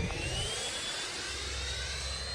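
A Freewing F-15 90mm RC jet makes a slow pass overhead, its electric ducted fan giving a steady, loud whine and rushing roar with a rising tone as it goes by.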